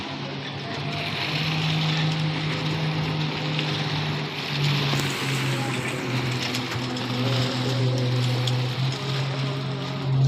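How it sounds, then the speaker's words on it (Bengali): A speedboat runs across open water, its engine a steady, loud droning hum with a sustained low tone, mixed with wind and water rush throughout. "স্পিড বোট কিভাবে স্পিড আসতেছে"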